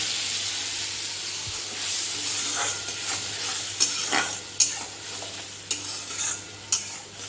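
Mustard-poppy seed paste sizzles and fries in a pan for home-style cooking, with steady stirring and a few sharp scraping knocks of the spoon against the pan toward the end.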